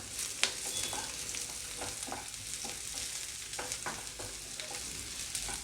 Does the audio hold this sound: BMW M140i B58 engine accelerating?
no